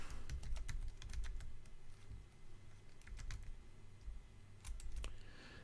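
Someone typing a command into a computer keyboard while setting up Steam OS in VirtualBox, with quick bursts of close, crisp key clicks separated by short pauses and a low hum underneath.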